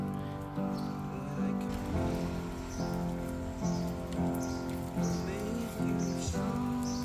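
Rain falls steadily on surfaces around a vanilla planting, a soft continuous patter with scattered drops tapping nearby at low volume, with nothing else breaking through.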